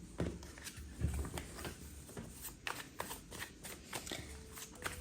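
Tarot cards are shuffled close by in quick, soft riffling bursts and flicks that repeat through the moment, quiet and without talk.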